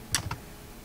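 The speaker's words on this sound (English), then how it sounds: "So just keep double clicking right in here" A computer mouse double-clicks on a map, two quick close clicks followed by quiet room tone.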